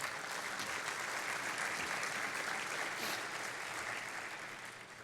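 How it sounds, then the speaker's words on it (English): Sustained, dense applause from a large audience, steady throughout and easing slightly at the end. "So give yourselves a round of applause for that."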